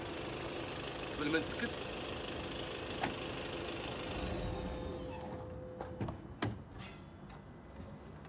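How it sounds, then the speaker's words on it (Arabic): A Volkswagen Golf 7.5 engine runs at a steady idle with a low, even hum and faint ticking, while someone speaks briefly nearby. "النغمه ديال الموتور ديالها"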